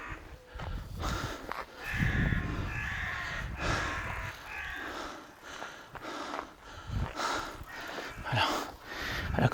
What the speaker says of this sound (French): j'entends la corneille